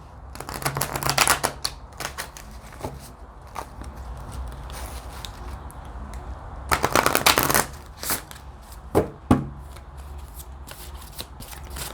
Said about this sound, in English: I'm going to pull a couple of cards for you from my Archangel Gabriel deck